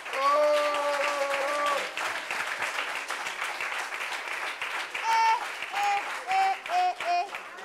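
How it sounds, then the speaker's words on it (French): An audience claps and cheers steadily while a whistle-like tone sounds, first held, then in short repeated bursts over the applause. "Est-ce qu'on peut applaudir, s'il vous plaît?"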